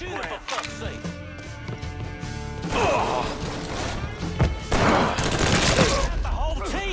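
Gunfire in the Mafia III video game, with dense overlapping bursts of shots and crashes layered with music and loud, continuous shouting voices.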